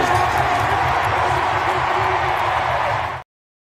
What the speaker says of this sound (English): What's not real is the crowd noise at Nissan Stadium.